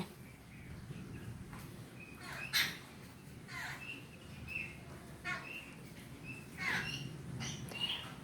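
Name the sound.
birds chirping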